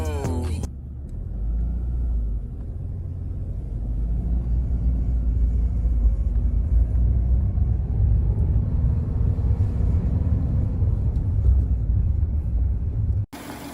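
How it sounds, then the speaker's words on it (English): A car engine rumbles loudly and steadily up close on a quick test drive, a deep continuous drone with slight swells in pace and no one talking. "we got it running, and it feels fun, you know, take it around for a quick test drive"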